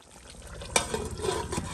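Food being stirred and sautéed in a home cooking pan, a sharp scrape of the spoon followed by a soft, steady sizzle with faint stirring noises throughout.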